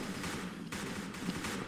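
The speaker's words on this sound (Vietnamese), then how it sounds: "Liên tục là những cái tiếng súng đấu ở khu vực mid vang lên." Gunfire exchanges ring out in the middle area of the shooter game Truy Kích, a steady dense patter of rapid shots over a continuous background, with a few sharper bursts, no talking.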